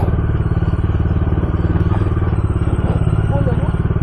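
A loaded motorcycle labours uphill on a mountain road near Darjeeling, its engine a steady, close, heavy thrumming that pulses evenly without a break, with faint voices mixed underneath.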